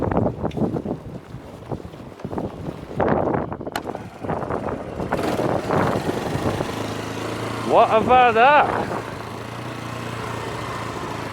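A Lexmoto Venom SK125 motorcycle rolls downhill and bump-starts after wind-buffeted coasting and talk, with the engine catching in a rising, revving burst before settling into a steady idle.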